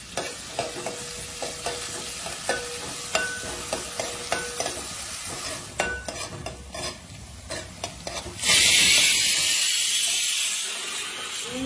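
Cumin seeds and onions frying in a hot pan for pav bhaji, a close crackling sizzle with repeated spatula scrapes and taps, swelling into a louder, hissing burst of steam near the end.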